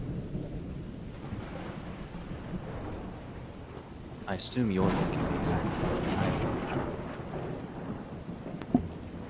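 A thunderstorm with steady rain pattering on a surface and a loud rolling thunder crash partway through, continuing under a voice.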